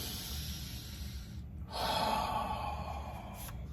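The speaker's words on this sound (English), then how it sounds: "Deep breath." A single deep breath, drawn in and let out slowly, close and fairly loud against a steady low room hum, with no talking.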